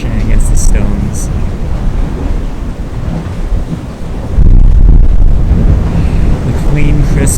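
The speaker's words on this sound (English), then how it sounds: "just hear the waves crashing against the stones" Ocean waves crash against the stones by a Maine lighthouse, a loud continuous roar of surf mixed with strong wind buffeting the microphone.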